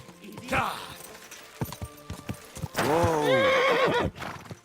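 A horse whinnies loudly with a rising, wavering call, following a short neigh and scattered hoofbeats clip-clopping nearby in the video game Kingdom Come: Deliverance II; a voice speaks briefly.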